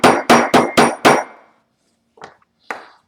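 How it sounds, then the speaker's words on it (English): Five sharp, evenly spaced hammer blows strike a leather lace seam at a buckstitch splice. Two lighter taps follow after a pause. The blows are close and loud and sound alone, with no talking. "some extra hammering right there where that seam is, where the splice and the Buckstitch is."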